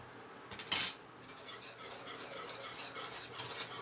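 A spoon stirs sugar into kimchi paste, faint scraping and clinking against a bowl with one sharper clink early and soft repeated strokes after, close and quiet.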